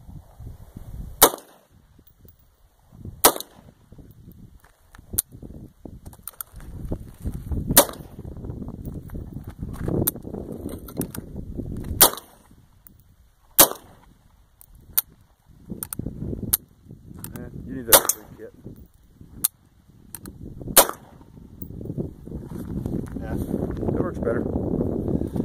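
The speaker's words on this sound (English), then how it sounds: "I'll shoot some tin cans." C96 Mauser pistol firing at tin cans outdoors, a string of sharp, loud shots at irregular intervals over nearly half a minute, with people talking in between.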